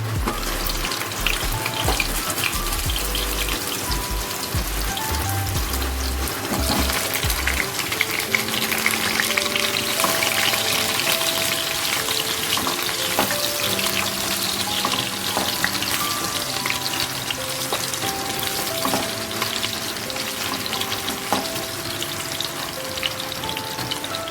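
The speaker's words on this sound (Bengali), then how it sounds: "আমি এখানে তিনটে মিডিয়াম সাইজের আলু নিয়ে নিয়েছি এটাকে ভালো করে ফ্রাই করে নেবো" Three medium potatoes frying in hot oil for chicken curry, a loud, dense, continuous sizzle close by, with some clattering and shifting of the pieces early on and no talking.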